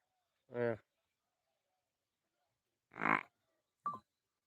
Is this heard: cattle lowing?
yes